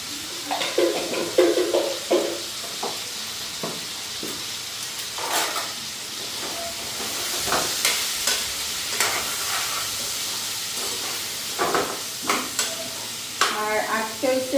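A potato and soybean curry frying in a pan while being stirred, with repeated scraping strokes and clinks over a steady close sizzle, no talking.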